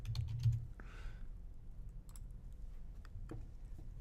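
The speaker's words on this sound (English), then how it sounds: "type in your username" Keys clack on a computer keyboard in short, quiet bursts as login details are typed, close and soft against a faint room hum, with no talk.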